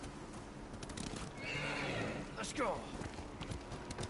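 A horse in the video game Ghost of Tsushima whinnies loudly midway while hooves clip-clop steadily throughout; someone speaks briefly over the game sounds.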